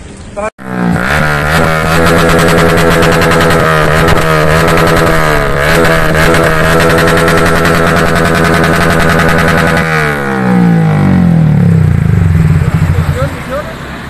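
Motorcycles fitted with loud aftermarket exhausts in road traffic, a close, very loud, continuous revving roar with shifting engine pitch, then a second rising throttle burst near the end.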